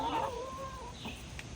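A chicken gives a drawn-out cluck followed by a couple of short softer clucks, close by, over a low background hum.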